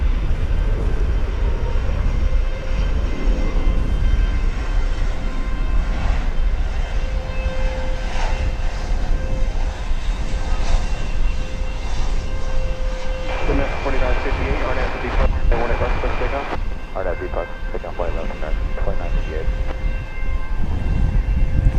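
A FedEx plane passing over DFW Airport, a continuous broad engine roar that stays loud and steady throughout, with a higher whine rising near the middle.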